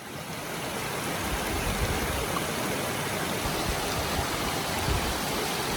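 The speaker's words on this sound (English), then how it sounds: "listen to the sound of rushing water" Rushing mountain stream water near the Seven Rila Lakes in Bulgaria, a steady broadband roar that stays loud and constant throughout with no voices.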